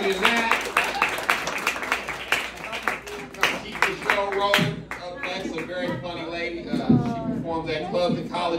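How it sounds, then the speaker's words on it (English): Comedy-club audience at the Broadway Comedy Club in NYC claps in a quick burst of sharp, fairly close hand claps over the first few seconds, with a loud voice talking over it throughout. "Keep clapping. Clap."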